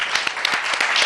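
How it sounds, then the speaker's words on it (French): A short stretch of audience applause for an artist, dense overlapping clapping at a steady level with no voices over it. "j'aimerais quand même qu'on applaudisse l'artiste"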